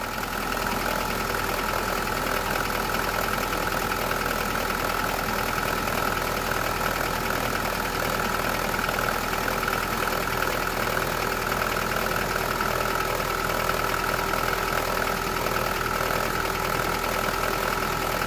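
A rough-running CAV diesel engine in an old classic car, the type also fitted to the Ford Escort, idles steadily with a constant knocking clatter and mechanical rattle, close and continuous throughout with no talking.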